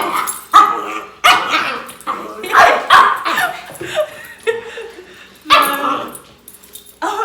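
A dog barks and yips repeatedly in short, loud bursts with a few whimpers, close by in a room with people during a spicy noodle challenge; voices can be heard faintly between the barks.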